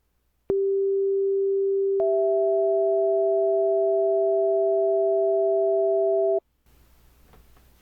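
A steady pure test tone starts abruptly, then a second higher tone joins after about a second and a half. Both hold perfectly constant and loud for several seconds and then cut off together, leaving faint room noise.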